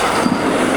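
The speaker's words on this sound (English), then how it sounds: "not without a drive past from the Flying Scotsman, the mini one." A miniature Flying Scotsman train drives past close by, a brief, loud rolling rumble of small rail wheels on track.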